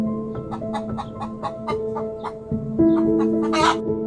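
Hens cluck repeatedly in quick, uneven bursts, several birds overlapping nearby, with a brief louder squawk near the end.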